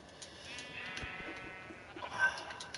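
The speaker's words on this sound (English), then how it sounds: "There we go. Got the sheep." Sheep in a multiplayer video game on an anarchy server bleat a few times in quick succession, wavering cries over a steady background hum with no talking.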